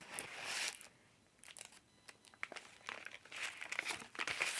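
Food packaging, a used wrapper glued into an art journal, crinkles and rustles close up in bursts, with brief quiet pauses between the handling.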